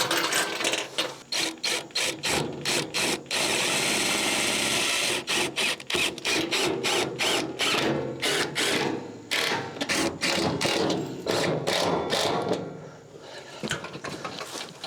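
A ratchet clicks in rapid bursts as bolts are tightened to mount a mini split unit, close and loud, with short pauses between runs of fast clicking.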